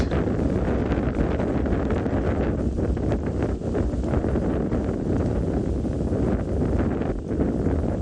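Strong wind rumbles and buffets the microphone out in open safari terrain in South Africa, a loud, continuous roar with no pauses.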